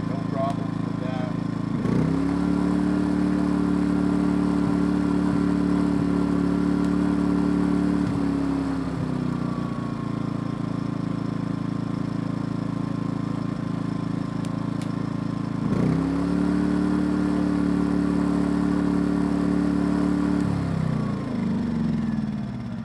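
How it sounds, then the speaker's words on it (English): Small engine with a smart throttle, run alongside a Yamaha MZ80 engine setup, drops to a steady idle, then revs up again in two clear cycles, each followed by a settled idle, with no talk over it. "That turns the smart throttle on, idles down."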